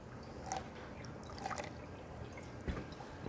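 Small splashes of water go into a container for a science experiment: a few brief, quiet trickles and drips spaced about a second apart over a soft background.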